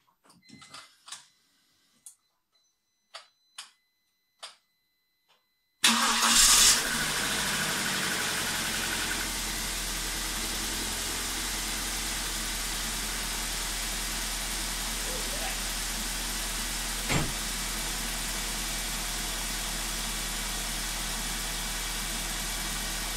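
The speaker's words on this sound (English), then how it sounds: "Okay, so the engine started right up." A BMW N42/N46 four-cylinder engine after a timing chain replacement: clicks and faint sounds, then a sudden crank and catch, settling into a steady idle hum with one brief rev blip midway.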